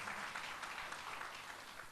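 A large crowd applauds in a dense, even roar of clapping, steady throughout with no voices standing out.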